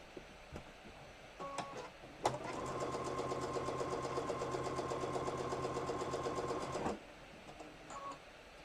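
At a sewing group gathering, a sewing machine stitches in a fast, steady mechanical whir for several seconds, preceded and followed by brief starts and stops.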